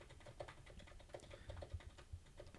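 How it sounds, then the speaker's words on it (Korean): Computer keyboard typing picked up at low level by a Razer Seiren Elite dynamic microphone: a quick, fairly steady run of soft key clicks and thumps, quiet and close, with no talking. "마우스 소리나 키보드 소리가 어느 정도 들어가는 것은 어쩔 수 없는 현상입니다."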